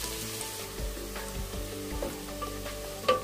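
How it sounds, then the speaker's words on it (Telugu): Ingredients frying in a pan for a Telugu-style chicken biryani masala, a steady close sizzle with occasional stirring scrapes and clicks, no talk. "ఇది గోల్డెన్ కలర్లో వచ్చే వరకు మనం ఫ్రై చేసుకోవాలండి"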